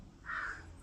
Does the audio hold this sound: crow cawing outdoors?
yes